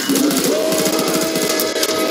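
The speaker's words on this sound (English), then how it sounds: "I heard that chainsaw sound." A Scrake's chainsaw in Killing Floor 2 revs with a steady, loud buzzing drone, continuous and close, running without pause.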